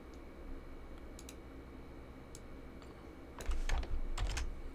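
Quick keystrokes clatter on a computer keyboard in irregular bursts, close and fairly quiet, with a denser flurry of typing toward the end.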